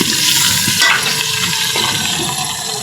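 Onions frying in a pan with a spice paste added, a loud close sizzle with stirring scrapes and a sudden surge of hissing as the paste hits the hot oil.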